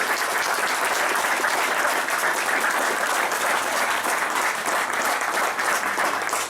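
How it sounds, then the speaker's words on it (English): An audience at a Homes For Our Troops event claps for the corporate sponsors, a full, sustained round of applause from a large crowd that holds at a steady level throughout. "For a great round of applause for all of our corporate sponsors."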